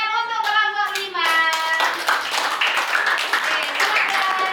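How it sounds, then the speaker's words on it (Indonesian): Classroom students clapping for a presenting group, a burst of hand claps that starts sparse and rhythmic then thickens into fuller applause, with a voice speaking over the start. "kita beri tepuk tangan untuk kelompok 5"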